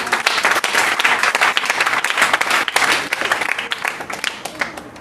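A church congregation applauding, dense close clapping from many hands that swells and stays steady for several seconds before thinning slightly, with faint voices mixed in.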